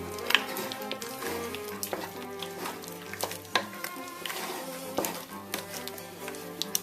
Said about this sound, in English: This is actually doing a little bit of cooking here on the stove right now.